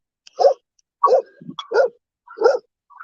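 A dog barks four times in a row with short pauses between, close and fairly loud, with a small grunt in between.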